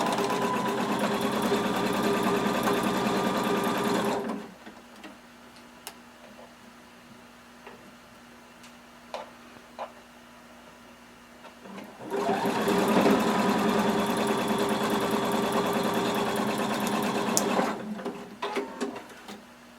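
A sewing machine stitches the crotch seam of a Simplicity 1116 swimsuit pattern with a 3/8-inch seam allowance, running steadily for several seconds, pausing with faint handling clicks, then running again near and loud.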